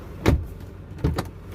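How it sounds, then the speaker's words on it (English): A 2021 Nissan Navara VL Premium diesel pickup door shuts with a solid thud, followed about a second later by a second, lighter clunk and latch rattle, close by with no talk. "So now let's close the door."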